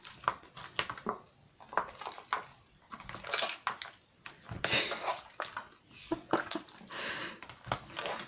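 Homemade borax slime being mixed and squished by hand, a close series of irregular wet squelching and sticky popping bursts, some sharp and some drawn out, with brief quiet gaps between.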